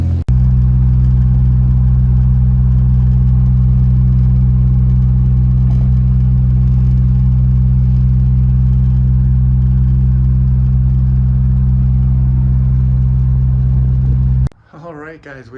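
A Mazda RX-7 cruises on the highway, a loud, steady engine drone with strong low hum and road noise held constant for about fourteen seconds before cutting off abruptly.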